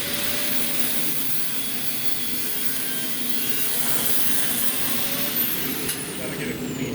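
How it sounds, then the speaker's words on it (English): A flapper wheel on a grinder works against steel, giving a continuous loud high whine and rough abrasive rasp that holds steady for several seconds up close. "you're going to grind that a little bit out of there with a flapper wheel"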